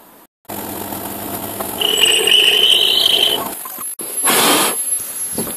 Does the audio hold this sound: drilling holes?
yes